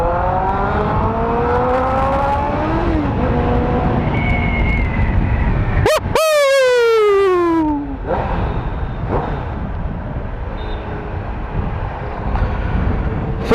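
A Honda CBR650F fitted with an Akrapovic exhaust and a BMC air filter revs up close by, rising in pitch and dropping through a sharp engine sweep, with wind noise from riding throughout.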